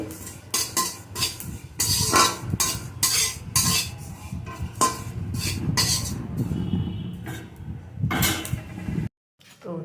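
Whole cumin seeds rattle and scrape as a utensil stirs them in a dry metal pan in quick, repeated strokes, with occasional clanks, close and fairly loud.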